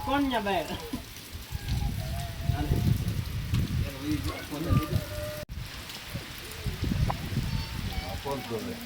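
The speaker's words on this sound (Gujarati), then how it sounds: "વરસાદ જોરદાર આવે છે" Heavy rain drums steadily on a farm field, a constant close patter running beneath people talking throughout.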